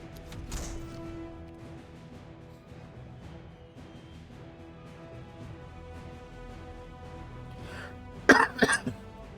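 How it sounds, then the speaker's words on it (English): A couple of close, sharp coughs near the end, after a long stretch of quiet room tone with faint tonal hum in the background. "Don't mind my cough, guys."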